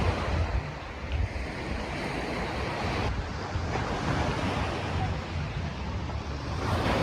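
Ocean surf rolling onto a stony public beach at Tsilivi on Zakynthos, Greece, a steady loud wash of breaking waves with some wind buffeting the microphone and no talking.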